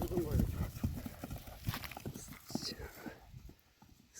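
A three-year-old horse being run sets up a rapid series of hoof clip-clops on the ground, loud at first and then trailing off as it moves away. Someone talks over the hoofbeats.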